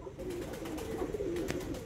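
Sialkoti chuha pigeons cooing, a soft low warbling murmur held throughout a brief stretch.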